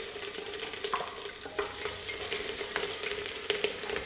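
Chopped ginger, garlic and green chili fry in hot coconut oil for a Kerala beef curry, a steady close sizzle with crackling pops and occasional spoon scrapes as the pan is stirred.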